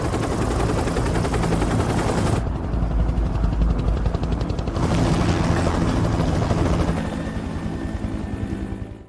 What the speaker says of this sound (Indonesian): Sementara helikopter menyisir seluruh area militer itu.